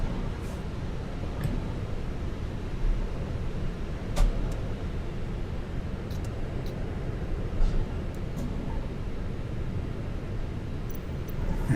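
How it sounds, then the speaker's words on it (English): Airbus A320 jet engine spooling up in Microsoft Flight Simulator, heard as a steady, dense roar with a broad rumble that holds constant throughout, a few faint ticks and clicks scattered above it. "Engine number 2 firing up."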